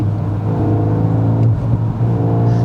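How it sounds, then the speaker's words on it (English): A 2021 VW Golf R's turbocharged engine revs loudly and steadily up close, a continuous throaty drone with a brief dip midway before climbing again, with no voices. "Let's check the response of the engine."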